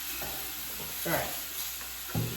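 Steady hiss of steak sizzling in a hot cast iron skillet, with a few louder bursts as pieces hit the surface; faint talk underneath.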